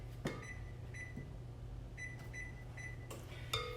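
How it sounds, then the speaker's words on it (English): A kitchen oven beeps while being set to preheat to 350, a series of short, clear electronic tones in quick pairs and singles over a low hum, close and with no talk. "Let me also preheat my oven to 350."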